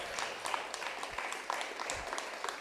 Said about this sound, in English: let's give a round of applause to BTO and resale